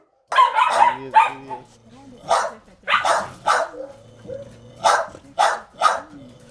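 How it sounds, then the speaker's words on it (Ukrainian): Several dogs at an animal shelter bark and yip in repeated close bursts, with whimpers and low tones between, while a voice talks over them. "Чекають і троє цуценят, і ще сім десятків різноманітних собак."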